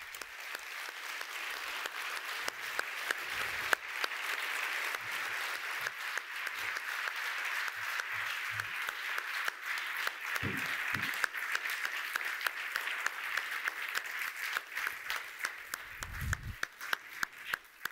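A lecture audience applauding at length after a talk on building with wood against the climate crisis, dense steady clapping throughout with a few scattered louder claps near the end.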